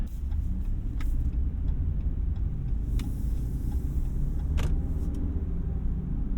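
A 6.4L HEMI V8 in a 2024 Ram 2500 Rebel truck rumbles steadily at low pitch while driving, with constant road noise and a few faint clicks and squeaks from inside the cab.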